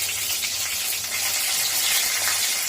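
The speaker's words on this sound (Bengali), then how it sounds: "কাঁচা লঙ্কাগুলো ভেঙে দিয়ে দিচ্ছে।" Broken green chillies fry in hot oil in a kadai, giving a loud, dense, continuous sizzle heard up close with no talking.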